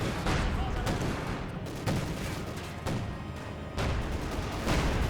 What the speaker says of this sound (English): Su-85 shooting ground.